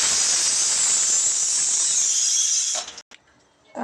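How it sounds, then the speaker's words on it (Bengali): Pointed gourd (potol) fries in oil in a pan with a loud, steady, close sizzle that lasts about three seconds, then cuts out abruptly to a quiet clatter. "পটলটা ভাজা বসিয়ে দিয়েছি।"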